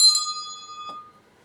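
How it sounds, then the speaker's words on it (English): A single bell strike rings out clearly at the start, its bright metallic tone sustaining and slowly fading for about a second, followed by a faint soft knock. "let me ring the bell"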